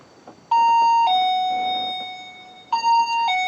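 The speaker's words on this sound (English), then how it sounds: "if something crosses the beam that we can't see, it will create an audio alarm like this." An electronic alarm from a laser-beam tripwire device sounds in an old inn, a loud two-tone chime that rings out, fades, and then repeats once.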